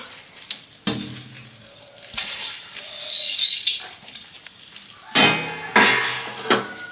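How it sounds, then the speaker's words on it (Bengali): Nigella seeds and fenugreek stirred in a dry wok, with scattered clinks and scrapes of a spatula against the metal in uneven bursts, close and fairly loud, with no talking. "এবার এই দুটোকে আমি খুব ভালো করে নেড়ে চেড়ে একদম ভালো করে ভাজা ভাজা করে নেবো শুকনো কড়াইতে।"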